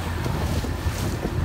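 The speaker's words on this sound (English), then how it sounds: "Little chilly out here, very windy" Strong wind buffets the microphone with a constant low roar, gusting heavily throughout and no voices, out on a lake aboard a pontoon boat.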